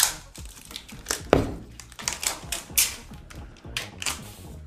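Samsung Galaxy Fold 4 packaging being unwrapped by hand, with a run of sharp crinkles, tearing rustles and crisp plastic snaps close up, irregular bursts of crackling with no talk.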